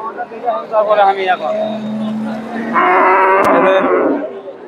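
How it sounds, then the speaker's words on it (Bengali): Friesian cross dairy cows moo at a busy cattle market, a long low call followed by another louder, drawn-out bellow, with people talking over the animals. "এখানে খালিয়া গাভী কিছু আছে, এগুলা খালিয়া গাভী।"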